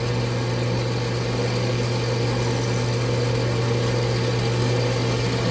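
A drill press runs continuously with a steady motor hum and broadband whir while the bit is fed slowly down into wood, loud and unbroken throughout with no speech.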